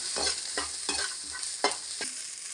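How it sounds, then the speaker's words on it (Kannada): Ingredients for a red chutney frying in a pan, stirred in repeated scraping strokes over a constant close sizzle, with no talking. "ಇದೆಲ್ಲ ಫ್ರೈ ಒಂಥರ ಕಂದು ಕಂದು ಬಣ್ಣ ಬರ್ತಕ್ಕ ಹುರ್ಕೋಬೇಕು"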